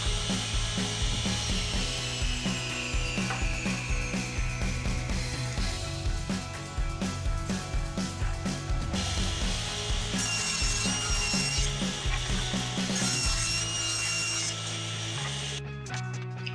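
Table saw cutting a wood board, a continuous close, loud whirring and rasping cut with rhythmic rubbing texture lasting about fifteen seconds, no speech.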